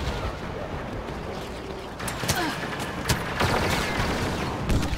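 Bursts of sci-fi blaster and ion cannon fire in Star Wars Battlefront's Walker Assault mode, several sharp booms over a constant rumbling battle background.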